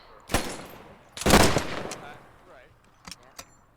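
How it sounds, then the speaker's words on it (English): Shots from a Boys anti-tank rifle crack out in a World War II–style Tunisia game battle: two heavy, booming reports with echoing tails, followed by a couple of sharper, fainter distant shots. "I officially love the boys AT rifle"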